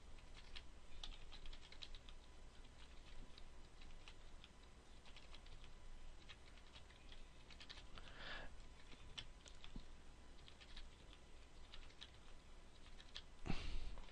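Steady, quick typing on a computer keyboard while values are entered into a Dreamweaver table, a close, soft patter of key clicks with an occasional louder tap and no talk.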